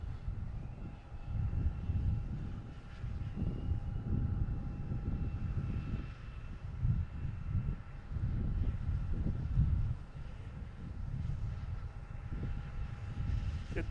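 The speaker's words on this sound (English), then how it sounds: "next coming in is a JetBlue, an A320 coming in from Orlando, flight 2152" A JetBlue Airbus A320 arriving from Orlando on landing approach at Boston Logan, its engines a steady low rumble with some wind noise throughout, moderately distant and continuous without any voices.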